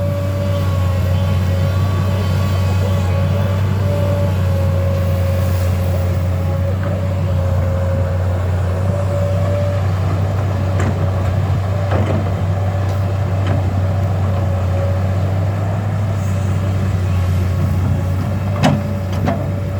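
A Mitsubishi diesel engine in a Kobelco SK200 excavator idles with a steady low rumble and constant hum, with faint clanks and ticks scattered over it.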